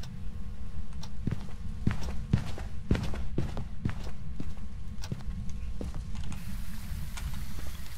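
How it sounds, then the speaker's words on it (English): Heavy ghost stomping footsteps in the horror video game Phasmophobia thud through a house hallway, a run of irregular, fairly loud impacts over a low rumbling background. "I heard stomping."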